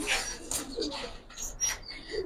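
Soft, low cooing of a male pigeon comes in a few short throaty phrases, fairly quiet and close, with faint background noise and a few brief higher chirps.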